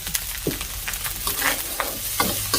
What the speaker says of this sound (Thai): ผัดให้มันเข้ากัน ให้มันเข้ากันให้มันหนุก